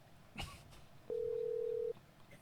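A single steady telephone tone sounds for just under a second during an outgoing call, with a faint brief noise before it and quiet hiss around it.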